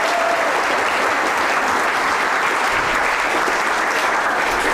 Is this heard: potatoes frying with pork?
no